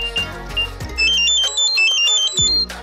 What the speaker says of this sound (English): Play Sound to make the earbuds beep so they're easier to